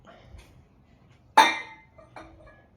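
A spoon stirs chicken curry made with yogurt in a cooking pot. A single sharp metallic clink rings out midway, followed by a couple of softer taps against the pot rim in an otherwise quiet kitchen.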